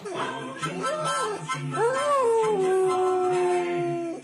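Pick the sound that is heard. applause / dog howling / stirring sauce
dog howling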